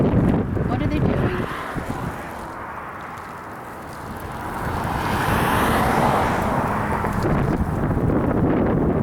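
Cars passing by on a roadside, a loud traffic whoosh that fades midway and swells again as another vehicle approaches, with wind buffeting the microphone and people talking nearby.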